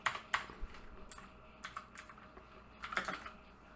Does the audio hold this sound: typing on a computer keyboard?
yes